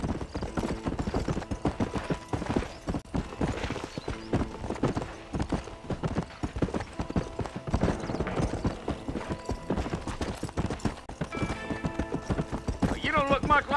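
Horse hooves gallop in Red Dead Redemption, a steady rapid clip-clop running throughout at close range, with character dialogue over it.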